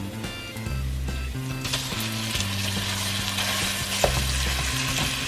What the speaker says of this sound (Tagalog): Saute until brown in color.